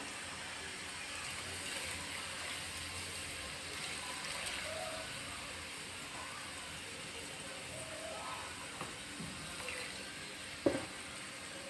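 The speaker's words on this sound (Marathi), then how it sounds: "हे तेल हे जे आपण मसाल्याचे साहित्य ठेवलेलं आहे त्याच्यावर ओतूया" Hot oil with roasted garlic poured over spices, a soft steady sizzle and hiss that keeps up throughout, with a faint clink near the end, quiet and alone.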